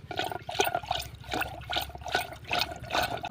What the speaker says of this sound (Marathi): आता ही दही आपल्याला घुसळून घ्यायचं आहे.